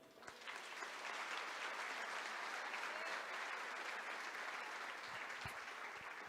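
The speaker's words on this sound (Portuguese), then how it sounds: "Você pode aplaudir?" An audience in a church claps steadily for several seconds, a dense even wash of applause heard from a distance at moderate level.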